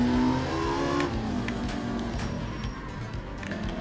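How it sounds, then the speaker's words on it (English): Rally car in the video game art of rally accelerating hard, a loud close engine revving up with rising pitch, running on steadily alone for a few seconds. "Let's accelerate."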